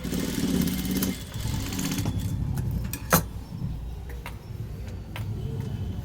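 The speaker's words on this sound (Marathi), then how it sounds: "बरोबर त्याच्या मधातून शिलाई मारायची" A sewing machine stitching piping along the round neckline of a size 36 blouse whirs in a short rhythmic run, then falls quieter with sporadic clicks and light handling noises.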